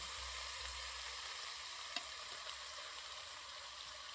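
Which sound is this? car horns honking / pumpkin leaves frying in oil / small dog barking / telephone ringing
pumpkin leaves frying in oil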